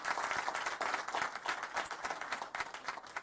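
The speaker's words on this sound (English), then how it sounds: "Can we give him a round of applause again?" A seated audience at a Detroit city officials' press conference applauds in a dense, sustained patter of many hands, steady and moderately distant, with no voices over it.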